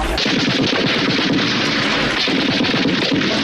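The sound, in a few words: man imitating a machine gun with his mouth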